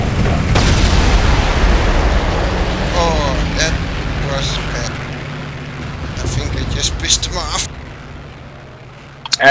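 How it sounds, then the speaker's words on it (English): A heavy rumbling cluster-bomb blast in a World War II flight game dies away slowly, followed by scattered crackles and pops, with voices talking over parts of it. "I dropped the cluster bombs right on top of the biplane. Blew myself up with it."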